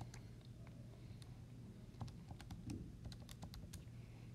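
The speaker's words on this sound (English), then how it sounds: "grab my calculator and type in things like 93 minus 97 in parentheses" Keys tap on a calculator keypad while numbers are entered, a series of light, irregular clicks close by over a low steady hum, with no talking.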